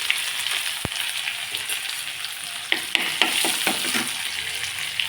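Crushed garlic and cumin seeds hit hot oil with mustard seeds already popping, a bright continuous sizzle close by, dotted with sharp crackles and spits.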